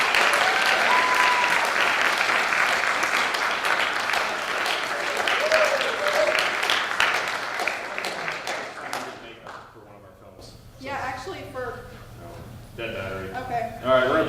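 Audience applause at a film premiere, loud sustained clapping and cheering that fades around the tenth second, after which a voice begins talking over the room.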